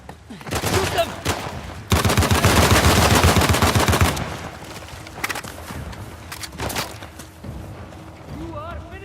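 Rapid gunfire in the video game Uncharted The Lost Legacy: scattered shots, then a dense, loud two-second volley, with sporadic bursts trailing off as game dialogue continues in the background.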